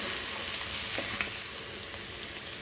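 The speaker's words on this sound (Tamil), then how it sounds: "நம்ம நல்லா மிக்ஸ் பண்ணிக்கலாம் எல்லாத்தையுமே" Capsicum egg masala sizzles steadily in a pan while it is stirred, with a constant close frying hiss and a few soft scrapes and no speech.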